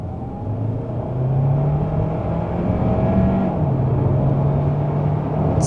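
A 2025 Hyundai Santa Fe HEV Calligraphy accelerates in sport mode on a motorway, its engine rising in a steady low drone with a climbing pitch heard from inside the cabin, loud and continuous with no talking.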